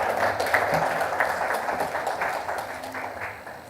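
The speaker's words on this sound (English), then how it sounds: "Let's give them a round of applause" Audience applause at a virtual annual counsellors' conference in Uganda, a steady wash of clapping from many hands, moderately loud and sustained for a few seconds without speech.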